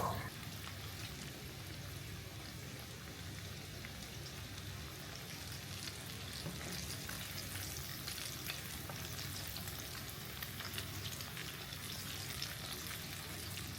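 Steady crackling sizzle of Hot Cheetos mozzarella sticks frying in hot oil, continuous and fairly close, with no talking.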